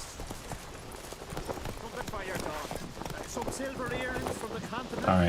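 Hooves of Roach, a horse in The Witcher 3, clip-clopping in a steady gallop rhythm, with a voice talking over the hoofbeats.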